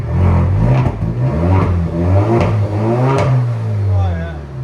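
A 2020 Alfa Romeo Stelvio with straight pipes revs loudly up close, the exhaust rising and falling in several throttle blips, with some talk partly over it.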